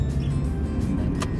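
A car drives across a quiet, narrow road with cars parked along the left side. The steady low rumble of its engine and tyres runs for over a second at moderate level, and a brief brighter swish comes near the end.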